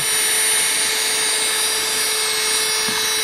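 Medenia New Touch electric nail file drill running steadily on its own, a constant high-pitched whine with a fine buzzing hum held evenly throughout.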